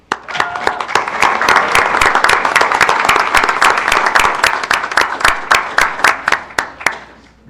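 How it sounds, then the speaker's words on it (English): Audience at a Hatfield Township board of commissioners meeting claps in a dense, loud burst of applause lasting several seconds, then tapers off quickly. "Please, a round of applause for Mike Cruson."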